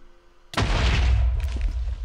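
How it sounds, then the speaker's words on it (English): A TNT block in the Minecraft video game detonates with a single sudden boom after a quiet moment, followed by a sustained rumbling roar that slowly fades. "That was a pretty small explosion."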